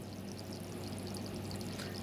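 Water flowing through a tube back into a pressurized storage tank, a steady, even rushing pour that stays at a constant level throughout, close-up with no talk.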